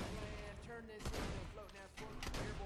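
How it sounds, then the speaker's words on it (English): Quiet bursts of Flakker gun fire in Borderlands 2 crackle in quick, overlapping volleys with a brief pause, layered under a talking voice and tonal game sounds. "That allows you to basically shoot off more shots than what you would normally do with the shot delay."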